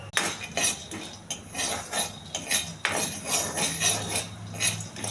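Peanuts tossed and stirred in a hot pan while making a peanut coconut chutney, giving steady rapid scraping and clinking of metal against the pan, close and continuous.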